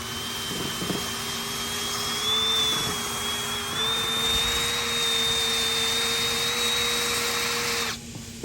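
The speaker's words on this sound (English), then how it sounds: "It's an eraser disc. It's for getting rid of materials, stickers, vinyl graphics, etc. without damaging paint." An eraser disc spun by a drill strips vinyl graphics off painted RV bodywork, giving a steady loud whirring whine that holds for about eight seconds, rising slightly in pitch midway, then cuts off abruptly.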